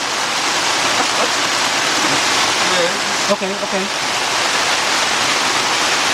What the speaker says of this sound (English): That rain coming down.